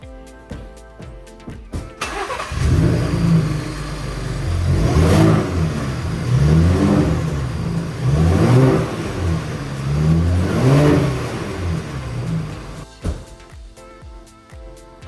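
Twin-turbo engine of a 2022 Ford Raptor with the stock intake starting up and revving repeatedly, loud close pulses rising and falling about every two seconds over a rumbling idle, then cutting off, no talk.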